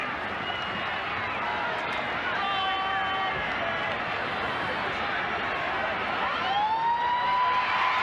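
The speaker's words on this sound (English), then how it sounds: "And there's the siren." A loud full-time siren wails up to a long steady tone over a roaring crowd at a 1986 rugby league match, Manly versus Parramatta, with commentary talk running underneath.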